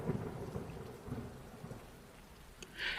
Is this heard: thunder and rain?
yes